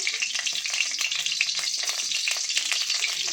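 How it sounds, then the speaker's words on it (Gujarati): Cumin seeds sizzle and crackle steadily in hot ghee in a kadai, a continuous close frying hiss with small pops and no voices. "તો આ રીતે થોડું જીરું નાખી દઈશું"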